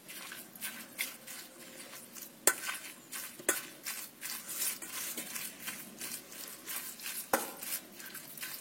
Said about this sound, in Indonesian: Kita becek menggunakan sendok atau garpu, terserah